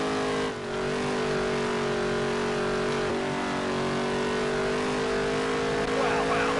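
A race car engine in a PS4 driving game holds a steady, sustained drone at high revs, loud and continuous with only slight pitch shifts as the car laps the track.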